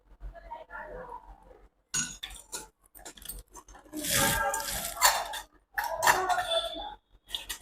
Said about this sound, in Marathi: त्याच्यामध्ये पण थोडंसं पाणी टाकून असं मिक्सरचं भांडं विसळून घेतलं